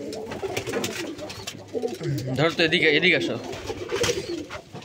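Pigeons coo at a pigeon farm in Kuakata, a steady murmur of soft throaty calls running under a voice that speaks close by.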